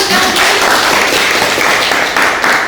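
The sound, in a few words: classroom applause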